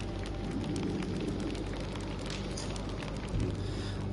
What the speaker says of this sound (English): On cue, a shower of rain tumbles over them.